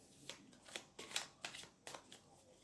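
Playing cards being shuffled by hand during a card trick, heard as a series of about six quick, crisp riffling bursts in an uneven rhythm, close and fairly quiet, with no talking.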